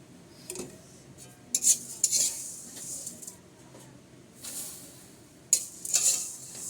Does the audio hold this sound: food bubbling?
yes